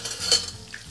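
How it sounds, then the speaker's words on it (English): Sea bass sizzles in browning butter in a hot pan, a brief, close frying hiss with a light clink of a utensil. "Our bass is cooking. Our butter is browning."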